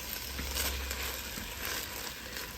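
Chopped vegetables frying in meat drippings in a pot for spicy jambalaya, giving a steady, close, broadband sizzle that holds evenly throughout with no talking.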